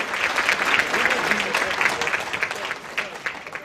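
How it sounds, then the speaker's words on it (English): Audience applause at the 2023 Queensland Australian of the Year Awards ceremony, a dense, steady round of clapping from a large crowd that holds level for a few seconds with a few voices mixed in. "Round of applause, please, Love ladies and gentlemen."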